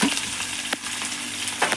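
Onions and green chillies fry in hot oil with curry leaves and mint for Telangana-style magiga charu, giving a close crackling sizzle broken by sharp stirring scrapes, with no talking.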